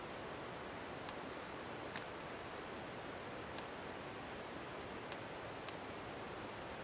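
Steady broadband rushing of a waterfall in the video game Rise of the Golden Idol, a constant even wash of water noise with no break, moderately quiet, with a few faint high clicks on top.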